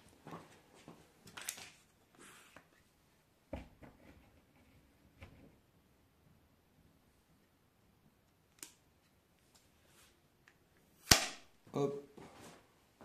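A Zoraki HP 01-2 Ultra air pistol is pumped and fired, with scattered soft mechanical clicks and rustles, then one sharp, close, loud crack near the end followed by a brief rattle; the background is otherwise quiet.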